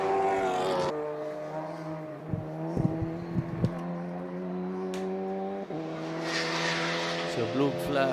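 GT race cars, including a Maserati, a Cupra and a BMW, roar past at a circuit with sustained engine drone and shifting pitch, brief bursts and squeals, while a commentator talks over the racing.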